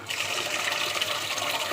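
Grains for adai dosa batter are washed by hand in water, a continuous sloshing and splashing, close and moderately loud with no talk.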